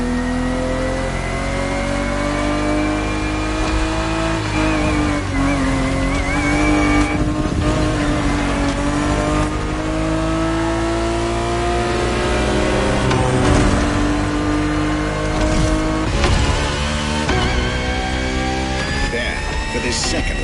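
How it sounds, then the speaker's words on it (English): Ferrari 365 GTB4 from the 1970s driven hard around a racing lap, its engine note climbing and falling through repeated gear changes, loud and continuous, with brief tire noise under a talking voice. "365 GTB4 is the perfect vehicle for you to experience Ferrari racing as it felt back in the 70s"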